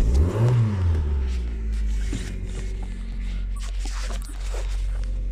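A low-mileage Ford Probe with about 53,000 miles cranks and fires from cold, then revs up and settles into a steady, loud idle close to the microphone, with some handling noise.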